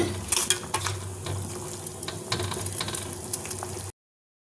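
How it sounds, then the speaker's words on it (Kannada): Corn cobs boiling in a pot of water on a kitchen stove, a steady bubbling and simmering hiss with small pops and rattles throughout, close and moderately loud, no voices. "ನೋಡಿ, ಜೋಳ ಕುದೀತಾ ಇದೆ."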